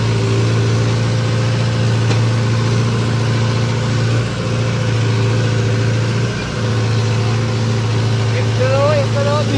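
A farm vehicle's engine runs steadily in first gear, holding a loud, even mechanical drone throughout with little change in pitch or level.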